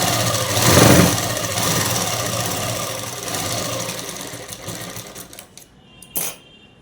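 A sewing machine runs loudly and continuously while stitching a dress, with a buzzing motor-like drone that swells early, gradually eases off, then stops, followed by one short burst.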